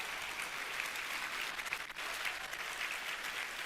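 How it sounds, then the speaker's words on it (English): A large audience at QuakeCon, a gaming convention, applauds the event volunteers with steady sustained clapping that stays even and continuous for a few seconds. "Please, another round of applause for those awesome folks."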